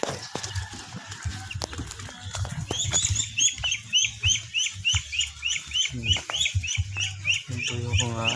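Ducklings and poultry in a backyard keep up a quick run of high, repeated chirps over softer clucking and rustling, fairly close and lively, with no one talking.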